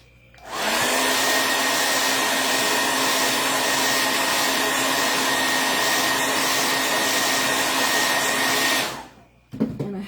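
Hair dryer blowing on a wooden house cutout craft piece, switching on abruptly and roaring loud and steady for about eight seconds before cutting off, followed by a brief handling clatter.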